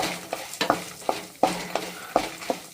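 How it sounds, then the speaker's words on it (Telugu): Urad dal frying in a pan is stirred with a spoon, giving a series of sharp scraping strokes at an uneven rhythm over a soft crackling sizzle, with no voices. "ఇందులో మినప్పప్పు వేసి వేయించుకోవాలి"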